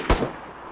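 A single sharp gunshot, loud and close, a sudden blast followed by a short decaying echo.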